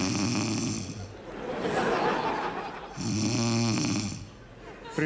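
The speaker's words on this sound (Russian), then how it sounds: "Ну, что ты опять будешь храпеть, я не усну опять." Two long, loud, rasping snores from a man on stage in a Russian comedy sketch, separated by a swell of audience laughter.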